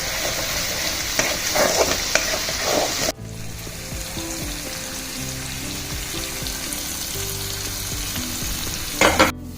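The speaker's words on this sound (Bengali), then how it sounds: "নারকেল কোড়াটা একটুখানি ভাজা ভাজা হোক।" Grated coconut fries in a pan for a vegetarian stuffed pointed gourd dish, giving a loud, dense sizzle for about three seconds before it drops to a quieter, steady frying hiss over a faint tonal background.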